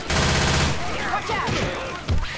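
Automatic gunfire in the zombie shooter Left 4 Dead 2, a loud sustained burst of rapid shots that opens the moment and then breaks into scattered shots and impacts, ending with another punchy shot.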